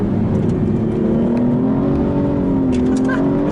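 An Aston Martin with a 7-speed automated manual gearbox is floored in second gear out of a corner, its engine roaring loud and close in a sustained rising note.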